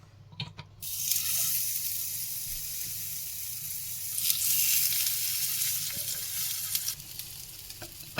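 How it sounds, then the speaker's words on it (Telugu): Baingan (eggplant) pieces fry in hot oil with a loud, continuous sizzle that swells after a brief clatter at the start, with a few soft stirring knocks toward the end. "ఇంకొంచెం ఆయిల్ వేసేసుకొని మిగిలినవి కూడా ఫ్రై చేసేసుకుందాం"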